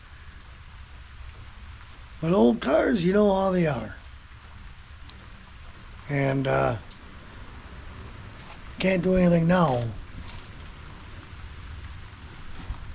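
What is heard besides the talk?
rain falling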